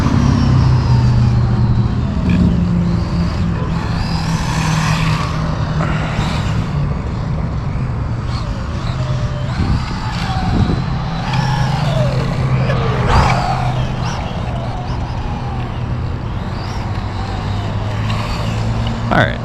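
A Traxxas RS200 RC car drives around at modest throttle on its first run, its electric motor whining and rising and falling over a continuous rough rumble, with a person talking over it.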